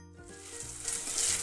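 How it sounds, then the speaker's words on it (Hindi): Green chili, ginger and coriander seeds sizzling as they roast in a hot pan, a steady crackling hiss that grows louder and denser toward the end, close and alone. "मसाले को यहाँ पे कुछ सेकंड के लिए भून लेंगे"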